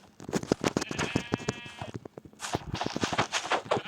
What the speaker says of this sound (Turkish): Aa koyun ama aa koyun.